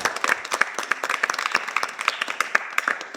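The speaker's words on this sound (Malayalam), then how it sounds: "നിറഞ്ഞ കൈയടിയോടുകൂടെ നമുക്ക് സ്വാഗതം ചെയ്യാം" Children applaud to welcome a church program, a brief burst of lively, uneven clapping at close range without talk.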